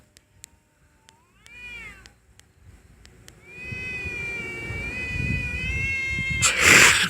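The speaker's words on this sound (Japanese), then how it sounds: "猫うるせえ。" Cats in a street fight yowl in long, wavering caterwauls that swell and rise, with brief meows before them, close and loud, ending in a harsh burst of hissing or scuffle.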